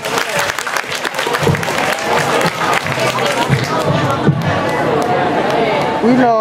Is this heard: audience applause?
yes